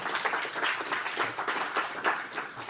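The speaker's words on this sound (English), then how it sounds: "Can we give him a quick round of applause?" Brief, moderately loud clapping from a seated audience after a talk on cyber technologies for small businesses, dense and even with no speech over it.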